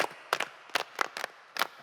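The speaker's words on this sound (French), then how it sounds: "On l'applaudit très très fort." In a French-language classroom, children clap for a classmate's correct answer with a few scattered, uneven bursts of hand claps that are fairly faint and quickly fade.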